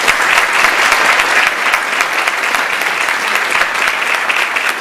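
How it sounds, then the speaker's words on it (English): Steady, loud applause from a crowd at a senior sports banquet dinner honoring athletes, dense clapping holding evenly throughout. "Let's give them a round of applause."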